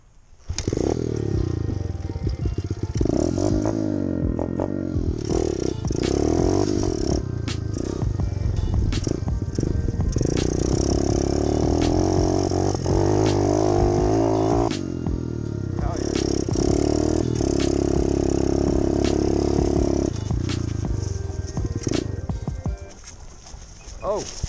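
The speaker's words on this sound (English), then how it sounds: "Round 3, mini hill climbs on pit bike" A pit bike climbing a small dirt hill, its engine loud and close as it revs hard, bogs and revs again in bursts for about twenty seconds before cutting out, with a voice talking over it.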